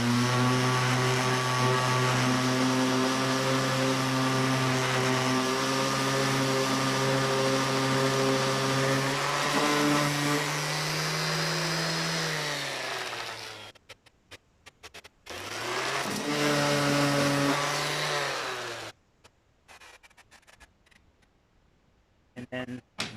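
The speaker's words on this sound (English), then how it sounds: "And then use a sander." A sander running steadily on a piece, a loud close motor whine with a strong humming tone that shifts pitch as the load changes, cutting out briefly, restarting, then stopping near the end.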